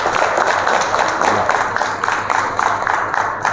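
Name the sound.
audience applause as thanks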